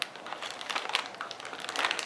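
Parchment paper crinkles and crackles in close, quiet bursts as it is folded over for salmon en papillote, soft crumpling repeated throughout.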